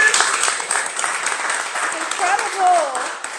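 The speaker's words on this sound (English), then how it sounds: "we're gonna clap on that." Audience clapping at a congressional funding event celebrating a 14-month milestone for substance use programming, a lively sustained patter with voices and cheers mixed in.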